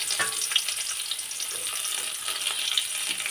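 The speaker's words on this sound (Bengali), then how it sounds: "এই গরম তেলে পেঁয়াজটা দিয়ে দিতে হবে" Chopped onions dropped into hot oil left over from frying eggs for an egg bhapa dish give off a steady, fairly loud hissing sizzle that runs throughout with no voices.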